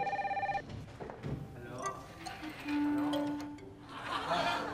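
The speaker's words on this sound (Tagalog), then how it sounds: "Telepono." A telephone rings with a few quick trilling bursts at the start, then talk and laughter take over amid a busy indoor scene from a comedy show.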